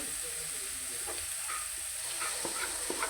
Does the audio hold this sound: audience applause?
no